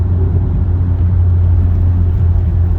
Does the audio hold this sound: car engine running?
yes